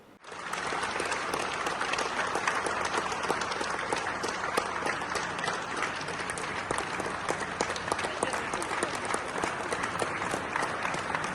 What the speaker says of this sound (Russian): Акылбек Джапаров ушел под аплодисменты своего аппарата.